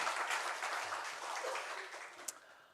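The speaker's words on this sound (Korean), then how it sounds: "우리 하나님께 영광의 박수 올려드리겠습니다" A church congregation at a Sunday worship service applauds, a soft, diffuse wash of many clapping hands heard at a distance that fades gradually, with one brief sharper click near the end.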